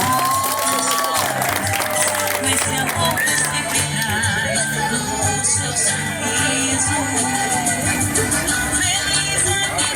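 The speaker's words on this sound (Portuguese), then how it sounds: "Uma salva de palmas pra ela, né, gente?" Applause and cheering for a birthday woman outside a live message car playing music, a crowd clapping and shouting steadily over loud continuous music, with voices mixed in.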